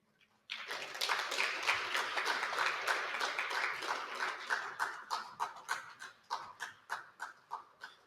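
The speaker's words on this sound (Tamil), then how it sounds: "அவங்களுக்கு இன்னொரு பலத்த கைத்தட்டல் கொடுக்கலாம்" An audience at a Tamil book launch breaks into applause that starts suddenly, holds as a dense patter of many hands for a few seconds, then thins into scattered individual claps as it dies away.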